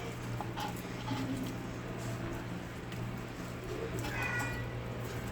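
A house cat meows loudly several times in a kitchen, with insistent, drawn-out cries over a steady background hum and faint clatter.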